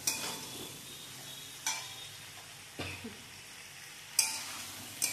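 Ginger paste sautéed in a pan gives a faint, low sizzle, broken by several sharp spoon scrapes and clinks against the pan at irregular intervals.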